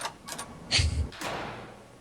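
A door shuts in a dark Garry's Mod horror map, with a soft slide and then a solid thud, followed by a faint lingering rumble. It is close, brief and heard without talk.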